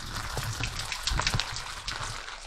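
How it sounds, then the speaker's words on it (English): Freezing rain falls on a garden during a winter storm, making a close, steady patter with scattered sharper drips and splashes and no voices. "as you can hear the rain in the background, it is picking up."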